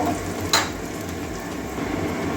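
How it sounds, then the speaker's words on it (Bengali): Chopped onions fry in oil in a pan, a steady close sizzle running throughout with one brief clink of a utensil early on. "এবারে বাদামি কালার পর্যন্ত পেঁয়াজটা ভেজে নেব"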